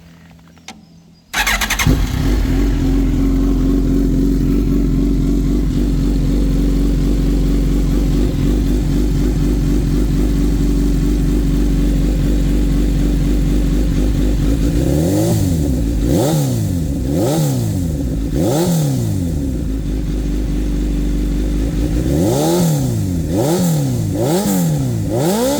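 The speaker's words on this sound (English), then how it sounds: "let's start up this race fit exhaust and see how it sounds" A 2005 Suzuki GSX-R1000 K5 sport motorcycle with a race exhaust fires up and idles with a loud, throaty exhaust, then revs sharply several times in quick bursts, rising and falling.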